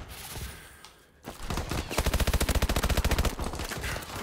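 Rapid automatic gunfire rattles in a tight burst of evenly spaced shots during a Call of Duty: Advanced Warfare match, loud and close after a short lull, with no talking over it.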